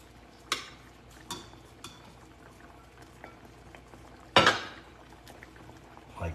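Creamy chicken marsala sauce bubbling in a pan with the chicken pieces added, a soft steady sizzle broken by a few sharp pops and one louder burst, with no voices.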